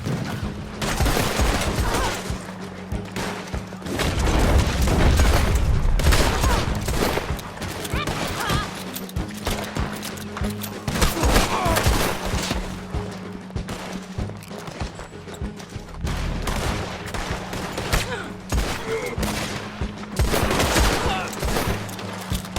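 Dense gunfire in a Red Dead Redemption 2 shootout against gunmen, rapid overlapping rifle and pistol shots crackling almost without pause, with game music and effects underneath.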